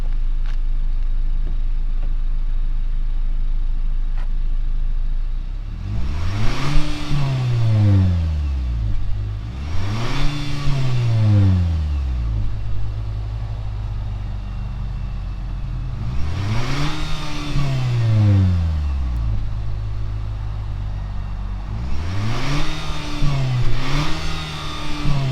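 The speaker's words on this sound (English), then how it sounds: "Let's rev on the engine really quick." A car engine is revved four times in quick succession, each rev climbing sharply in pitch and falling back to a steady idle, loud and close with no talking.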